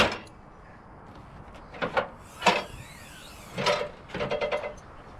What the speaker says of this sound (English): Let me shut this hood.